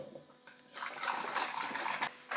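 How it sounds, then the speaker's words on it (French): Water poured for a homemade Marseille soap laundry detergent, a steady splashing, gurgling flow starting after a quiet moment and running close and moderately loud, pausing briefly near the end before resuming. "je mets donc 1 litre d'eau"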